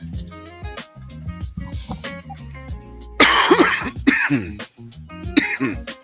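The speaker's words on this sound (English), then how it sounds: "You guys get to hear my cough over here." A person coughs and clears their throat in a few harsh bursts, close up, among other noisy sounds.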